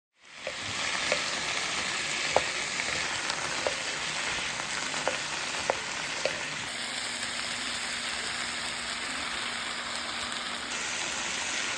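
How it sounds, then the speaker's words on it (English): A stir fry sizzles steadily in a pan at dinnertime, a broad continuous hiss with a few sharp ticks and pops scattered through it, close and even, with no talking. "A little stir fry for dinner, not bad."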